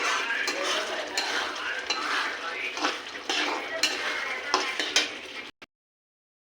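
Whole garam masala cooking with a little water in a pan, heard as busy scraping and clattering of a spoon against metal over a wet sizzle, close, before an abrupt cut to silence.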